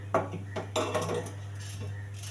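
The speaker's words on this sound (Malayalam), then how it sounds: "അപ്പോൾ സവോള പെട്ടെന്ന് നമുക്ക് അരിഞ്ഞെടുക്കാം." Small onions being cut with a knife for a home lunch, heard as a few sharp knife-on-board clicks and clinks spread over two seconds, over a steady low hum with no talking.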